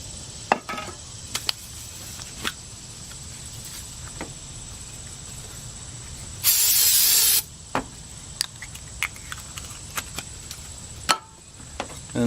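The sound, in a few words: brake part cleaner spray on aluminum surface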